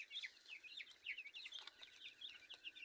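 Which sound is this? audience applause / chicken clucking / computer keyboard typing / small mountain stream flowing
chicken clucking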